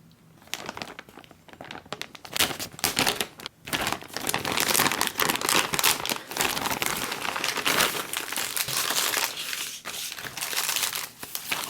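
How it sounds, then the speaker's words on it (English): Plastic pouch from a 2018 British single meal ration pack being cut open, giving close, steady crinkling and crackling of plastic that runs almost continuously with brief pauses. "There's no tear notches and no peelable seal, so we're going to have to cut this."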